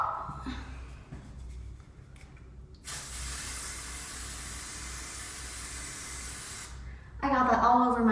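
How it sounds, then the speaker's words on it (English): Hairspray released from an aerosol can in one steady close hiss lasting about four seconds, framed by quieter room noise and a voice speaking just afterward. "Trusty old hairspray."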